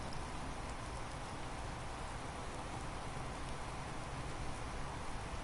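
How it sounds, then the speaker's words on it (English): Heavy rain falls during a rainstorm as an even, continuous hiss of drops on surfaces, fairly soft and unbroken, with no talking. "There is one heck of a rainstorm going on right now,"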